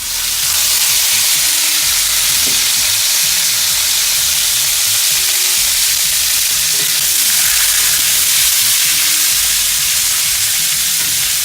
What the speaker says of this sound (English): now we're gonna start frying up the beans